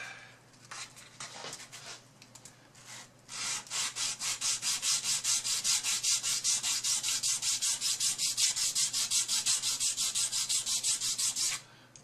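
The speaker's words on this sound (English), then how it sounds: "we'll start off with some 220 grit" Guitar wood on a Squier Telecoustic sanded by hand with 220 grit sandpaper, a few short scrapes followed by a long, steady run of rhythmic back-and-forth strokes, close and alone.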